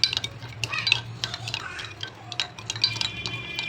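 A spoon stirs coffee with sugar and milk in a cup, giving quick, bright clinks and scraping taps against the sides over a faint low hum, close and fairly quiet.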